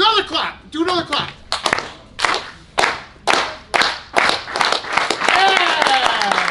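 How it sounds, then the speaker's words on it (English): An audience at a playoff hockey viewing party clapping in unison, about a dozen sharp, evenly spaced claps with brief gaps, closing in cheering and voices. "You stayed steady with the clap."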